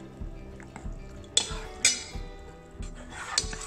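A spoon clinks and scrapes against a pot while urad dal flour is mixed inside it, making a series of light, close knocks at an irregular pace.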